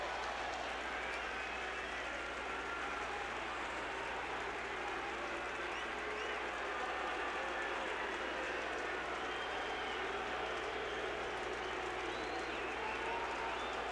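Baseball stadium crowd reacting to back-to-back home runs, a broad sustained roar of cheering and applause heard from a distance, steady and fairly faint beneath a low rumble.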